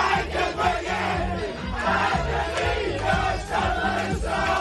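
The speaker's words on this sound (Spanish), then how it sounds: "En ese vestuario se celebró así la clasificación para la Euro." Scotland national football team celebrating Euro qualification in the dressing room to a Baccara song: a loud, close crowd of players shouting and singing along over pounding music.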